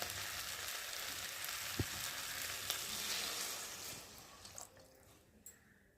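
Sizzling fish masala with potato and brinjal cooks in a pan, a continuous frying hiss with a few clinks and stirring scrapes, then the sizzle drops away as water goes in; quiet and close.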